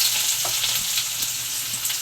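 Mustard seeds and onion frying in hot oil for a green broad bean kara kuzhambu, a steady close hiss of sizzling with faint crackles throughout, no talk.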